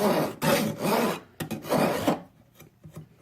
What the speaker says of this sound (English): sometimes I'll be filing nearly parallel to the metal, just to make it, to remove that burrs as I need it.